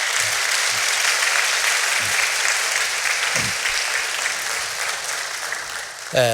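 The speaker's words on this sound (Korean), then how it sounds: "우리 교사들과 우리 전도사님 위해서 우리 감사의 박수 한번 드리겠습니다" A church congregation applauds its Sunday school teachers and evangelist with steady, full applause filling the room, a few voices and low thumps underneath, ending in a brief louder burst.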